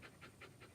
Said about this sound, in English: if you hear the panting in the background